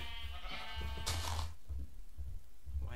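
A sheep in Minecraft bleats near the start with a wavering, nasal cry, followed by a brief burst of game noise and low thumping sounds, with no voices.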